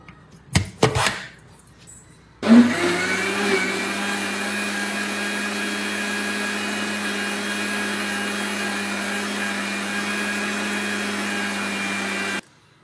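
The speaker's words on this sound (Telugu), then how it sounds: "మూత పెట్టుకొని ఫైన్గా గ్రైండ్ చేసుకుందాం" A mixer grinder blends mango pulp and sugar for homemade ice cream, its motor starting after a few brief knocks and then running as a loud, steady whir for about ten seconds before cutting off.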